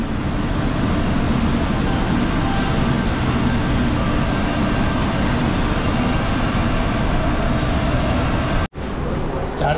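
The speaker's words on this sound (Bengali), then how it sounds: "এই হচ্ছে শালিমার থেকে এখন বেরোচ্ছে আমাদের ট্রেন" Train pulling out of Shalimar station on a new route toward Puri, a loud, continuous rumble of wheels and carriages that roars on steadily before a brief abrupt dropout near the end.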